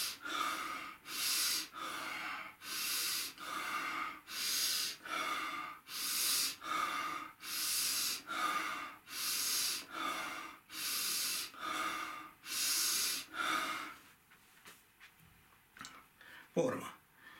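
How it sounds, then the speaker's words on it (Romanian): Rhythmic abdominal breathing during a gymnastics exercise, about a dozen strong, even breaths in and out repeating steadily up close, then quieter shuffling and a brief vocal sound at the end. "Respirație abdominală."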